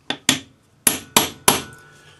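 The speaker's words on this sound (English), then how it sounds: "Then we're going to take our tapered punch that matches the angle of the plate, and we're going to hammer it down into" Five sharp metallic hammer strikes drive a tapered punch into a metal plate's chenier for a stone setting, close and loud, in an irregular rhythm with short ringing decays and no talk.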